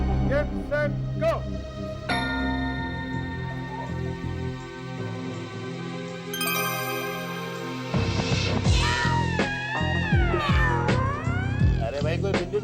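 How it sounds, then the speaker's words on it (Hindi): A cat meows repeatedly, starting with short calls and rising into long, drawn-out, wavering caterwauls near the end, heard close and loud with people's voices around it. "अरे भाई कोई बिल्ली को भगाओ यार।"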